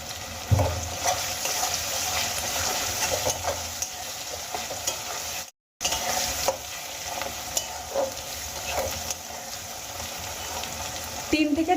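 Sliced onions frying in a pan for a Bengali-style potato, pea and paneer curry, with a steady close sizzle and repeated scraping of a spoon stirring, briefly cut to silence midway.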